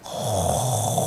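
A person imitates the sound of snoring with a single drawn-out, rasping snore lasting about a second, close and fairly loud.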